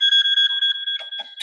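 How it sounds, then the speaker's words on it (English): A phone alarm goes off with a steady, loud, repeating electronic beeping tone that runs continuously, with a few brief extra chirps near the end. "that's my phone going fucking crazy"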